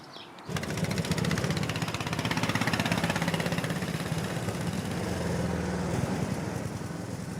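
Original engine of a small vineyard machine starting up and then running in a loud, steady, rapid chugging rhythm close by, with no talking.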